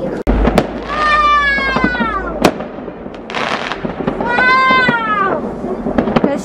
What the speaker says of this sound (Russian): Везде пускают салюты, самые большие вот там.